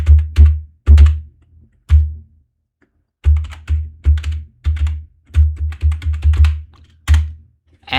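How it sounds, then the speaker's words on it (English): Keys on a computer keyboard tapped out in short bursts to enter a command, clacking in uneven clusters with brief pauses between words, close and fairly loud with no talking. "So I'm just going to type it,"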